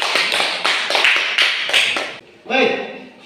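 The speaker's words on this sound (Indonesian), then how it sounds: "Sekali lagi kita berikan aplaus untuk kelompok 3" Applause from a classroom audience for a student group during a teaching practice session, several dense bursts of clapping in waves, followed by a voice speaking.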